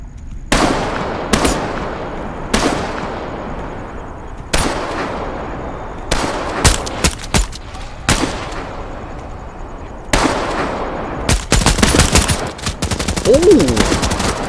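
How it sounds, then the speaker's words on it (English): Bursts of machine gun fire in the shooter game Into the Radius 2, loud sharp volleys repeating every second or two, ending in a denser rapid stream of shots. "Machine gunner, maybe? Dang. And he's still shooting."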